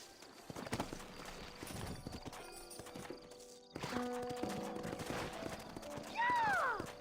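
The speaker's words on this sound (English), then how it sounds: "Horses are over here." Horses clip-clop along in a Red Dead Redemption scene, steady hoofbeats running under game music and ambience, with a brief whinny near the end.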